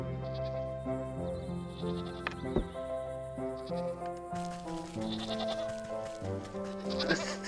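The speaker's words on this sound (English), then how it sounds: "I think the black sheep is a little shaken." Sheep in the farming-and-witchcraft video game Wytchwood bleat several times, a shaky wavering call under a steady background of game music, moderately loud.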